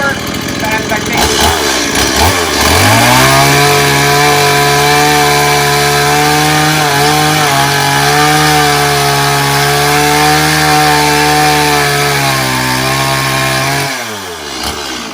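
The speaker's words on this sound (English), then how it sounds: "That's the technique with the chainsaw" A chainsaw cuts steadily through wood for a long stretch, its engine droning loud and close with a rising and falling pitch as the bar bites, then idling down near the end.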